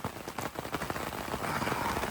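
Heavy rain pours steadily outdoors, a dense, continuous hiss of drops hitting surfaces close by, building slightly louder toward the end with no voices.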